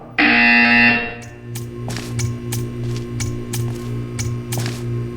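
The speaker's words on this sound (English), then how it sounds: "You will hear a buzzer. When you hear the buzzer, stare at the art." A harsh electronic buzzer in the video game Portal blares for about a second, then a rapid series of sharp clicking taps runs over a steady low mechanical hum.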